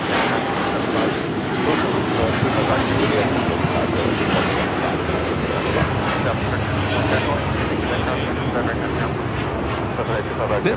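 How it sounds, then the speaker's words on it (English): A United Airlines Boeing 787-10 Dreamliner takes off from LAX bound for Tokyo Haneda, a loud, steady jet roar filling the whole stretch without letup. "This is United Airlines Flight 39 taking off to Tokyo Haneda on the 787-10 Dreamliner."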